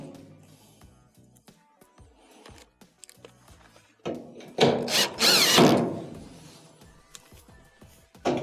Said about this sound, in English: Next, go around and reinstall your Phillips screws.